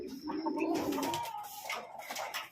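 Racing pigeon cooing on its return from a training flight, a soft low coo near the start amid chirpy bird calls and faint background sounds, no talk.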